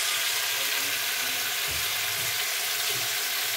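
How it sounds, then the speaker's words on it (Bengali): Chicken sizzles in a pan with garam masala spices, a steady loud frying hiss that never lets up, with some faint soft knocks and stirring sounds beneath it. "দিদি ভাই আজকে চিকেন রান্না করছে, একটা খুব সুন্দর স্মেল বার হচ্ছে গরম মশলার।"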